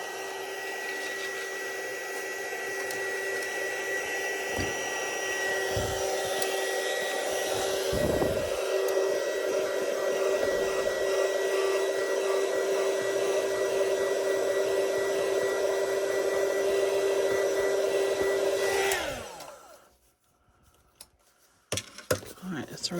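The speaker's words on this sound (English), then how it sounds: "I'm going to use my little embossing heat gun to warm it up." A small embossing heat gun warms vinyl with a steady, loud whirring blower tone and a high whine that runs for nearly twenty seconds before switching off, leaving near silence and a few light handling taps.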